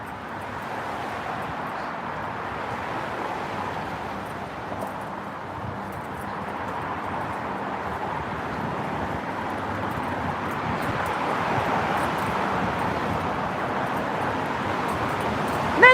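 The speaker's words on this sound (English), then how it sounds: "There's a wind up here. It's not super, super windy, but it's definitely a little windy" Steady wind at night on the Williamsburg Bridge, a broad continuous rush with faint traffic noise beneath, gradually growing a little stronger.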